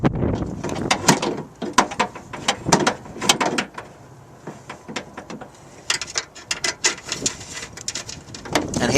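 A socket wrench tightens a window motor bolt inside the door of a 1989 Lincoln Town Car, giving irregular bursts of sharp, close metallic clicks with brief pauses between them.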